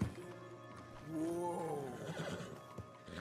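A horse in a Red Dead Redemption 2 game scene gives one loud, close whinny with rising and falling pitch, followed by light hoof clops and low background rumble.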